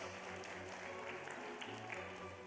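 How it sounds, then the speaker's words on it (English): Audience applause at a teacher of the year celebration, a steady wash of clapping from a crowded room, moderately distant and continuous under a low musical hum. "Let's give a round of applause for Christine Grace."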